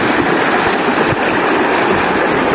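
Friends bathe in a cold river, the water rushing in a loud, continuous close-up wash with small splashes and knocks scattered through it.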